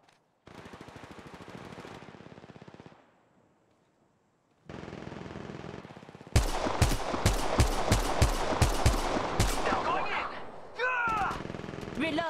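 Apex Legends Mobile gunfire: after a stretch of game sounds and a brief lull, a loud rapid volley of automatic shots rattles out in a fast, even rhythm, followed by more weapon effects.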